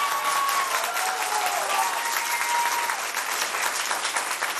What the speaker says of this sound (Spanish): un aplauso, no es fácil